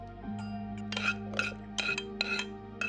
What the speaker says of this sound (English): This is the noise of mom cooking.